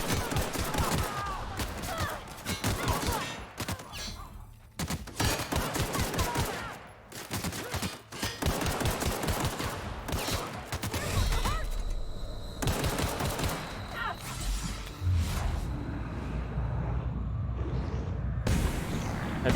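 Pistol shots in a first-person game, fired as dense, loud volleys of sharp cracks over game effects and impacts, with a player talking excitedly throughout.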